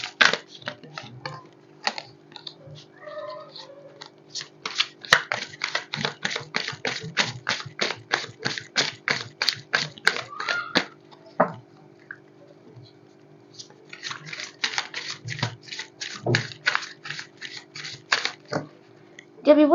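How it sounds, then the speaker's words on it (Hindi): A deck of tarot cards is shuffled by hand, a long run of quick, crisp card clicks in steady bursts, pausing briefly before resuming, with someone talking over it at times. "मैं अभी जब कार्ड शफल कर रही थी"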